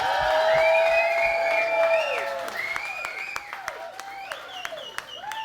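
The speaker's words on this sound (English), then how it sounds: "Give them a round of applause." An audience at an acoustic rock set by Shinedown's Brent Smith and Zach Myers at Rock & Brews in Royal Oak claps loudly, with whoops and whistles rising over it before the clapping thins and tapers off.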